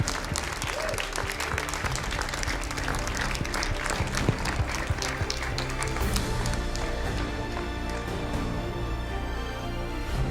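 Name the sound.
audience applause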